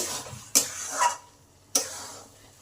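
Papaya halwa being stirred and mashed in a pan, with two sharp scraping knocks of the spatula against the pan over a faint background sizzle, no voices.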